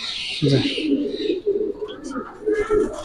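Racer pigeons coo at a pigeon farm, a low throaty cooing close by. Brief higher bird chirps and people talking run alongside it.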